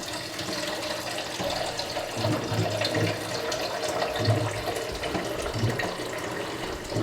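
Tap water running to fill a container in a home kitchen, a steady, moderately loud splashing rush that continues unbroken, close and without voices.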